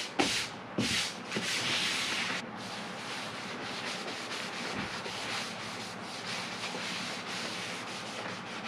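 Wax is rubbed onto the bottom of a woodworking jointer, giving long, close scraping and rubbing strokes that swell and fade in an uneven rhythm, with no voices.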